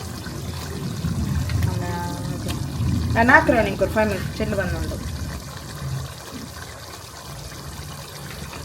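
Water is poured into a pot of curry, a soft trickling splash running beneath ongoing talk.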